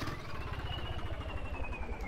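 New Holland 3630 tractor engine in Farming Simulator 19, a steady mid-pitched rumble with a fast pulsing throb and a faint rising whine, revving unevenly as the rpm struggles to hold.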